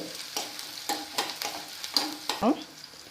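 Chicken curry ingredients with chilli sauté in an iron kadai, a soft sizzle broken by repeated clinks and scrapes of a spoon stirring against the metal.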